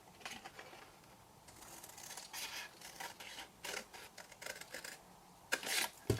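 Scissors snip through paper while a scented candle peep hole box is being made, a series of quiet, irregular cuts and rustles, close and faint, with a sharper crisp snip near the end.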